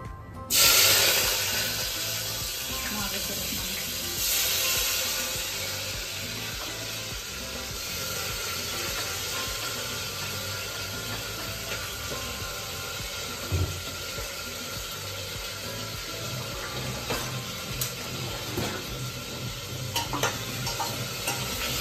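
Onions with coriander sizzle continuously in a pressure cooker pan, a steady crackling hiss running throughout, with occasional scrapes and taps from stirring.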